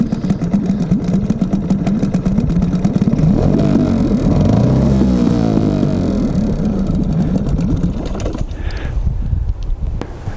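A small Yamaha 5 outboard boat motor runs steadily with a buzzing, rattling drone for several seconds, then cuts out near the end.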